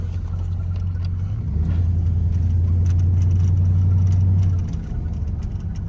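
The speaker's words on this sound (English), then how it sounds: "now I'm gonna take the truck on a test drive" A 2001 Dodge Ram 1500 pickup's engine hums low and steady while driving, its drone rising briefly then settling, with faint road noise and no talking.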